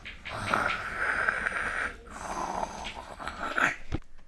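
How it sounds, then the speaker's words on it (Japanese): Loud snoring from a person, several rasping, snorting breaths one after another at close range with short pauses between them. "こいつのいびきで困っているんです。"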